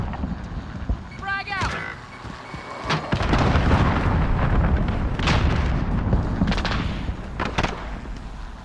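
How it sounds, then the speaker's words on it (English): Call of Duty: Modern Warfare match in which a cruise missile strikes and detonates, a heavy rumbling blast that swells and lingers after game alert tones, with voices talking over it. "Enemy cruise missile."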